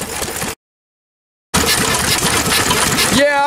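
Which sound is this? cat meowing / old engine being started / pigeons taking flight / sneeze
old engine being started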